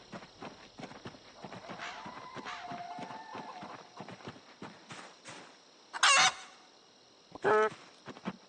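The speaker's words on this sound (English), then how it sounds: "Yep, we got another chicken over here." Chickens cluck and squawk in Project Zomboid, a zombie survival game, with a couple of loud, sharp bursts standing out near the end over steady in-game ambience and scattered clip-clop-like footsteps.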